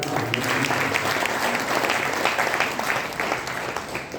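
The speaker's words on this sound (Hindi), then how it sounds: "पंडित जी के लिए एक बार जोरदार तालियों से।" An audience at an Arya Samaj Vedic bhajan gathering in Model Town claps loudly for the pandit, dense and steady applause held throughout and close by.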